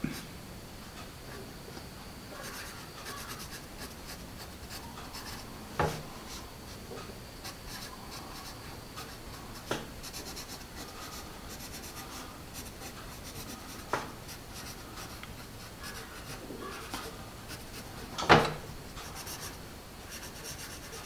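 Palomino Premium HB pencil writing on paper: a faint, steady graphite scratch over soft room noise, with a few short louder taps and strokes scattered through it.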